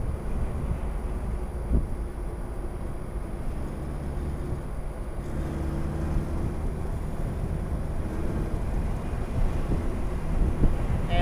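A 1960 Chevrolet Corvette C1 in Tuxedo Black cruises at about 50 mph, giving a constant, dense roar of wind and road noise heard from inside the car with no break.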